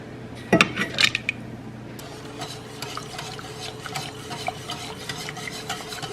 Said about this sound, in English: And we're just gonna whisk until it's all dissolved.